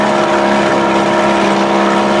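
Evinrude outboard motor converted from 25 hp to about 30-35 hp with a bigger carburetor, running steadily on a small boat in the water: a loud, continuous throaty drone with a constant pitch, no talk.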